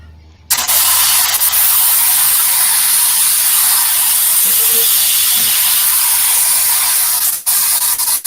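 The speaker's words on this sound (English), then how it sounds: "the compressor's going to kick in" Air compressor starting up abruptly after a quiet moment, then running as a loud, steady hiss that holds for several seconds before a brief break and restart.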